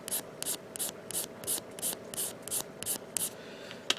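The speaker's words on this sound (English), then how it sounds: "sand it down" Sanding a small plastic part from a Bandai Yamato 2199/2202 model kit: about ten short, even, hissing rasping strokes in a steady back-and-forth rhythm, close and fairly quiet, with no talking.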